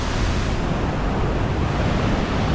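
Fast-flowing water of a mountain river near the village of Mana rushes as a steady, loud, broadband roar with no breaks, close to the listener and with no talk over it.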